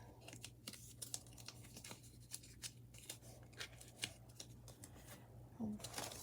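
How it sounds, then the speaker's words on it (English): Paper corners being folded and creased on a handmade 3D card shoe cut with wingtip dies, giving soft close rustles and crinkles under a low steady background hum. "Now let's fold these corners in."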